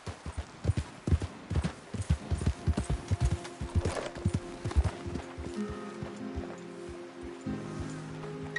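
Horse hooves clip-clop at a gallop in the Red Dead Redemption 2 video game, a quick uneven run of close, loud thuds with a faint snort near the end over a low steady hum.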